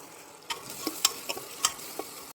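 Ginger garlic paste sizzles in a pan with softened onions and green chilli, a steady frying hiss broken by a few sharp spatters and stirring scrapes, close and fairly quiet.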